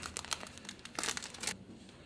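Plastic packaging for TE37 OG wheel spoke stickers crinkles as it is opened, a quick run of close, soft rustles and crackles that stops abruptly near the end.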